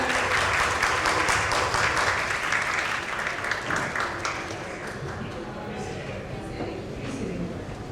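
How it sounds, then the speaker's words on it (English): An audience at a diplomacy forum applauds panel speakers, a full round of clapping that starts strong and slowly tapers off over several seconds, with a voice faintly talking beneath the fading applause. "And please give a round of applause."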